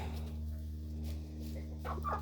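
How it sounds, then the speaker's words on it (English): Free-ranging chickens cluck quietly in the background over a steady low hum, with a couple of brief, faint clucks near the end. "I have 10 chickens."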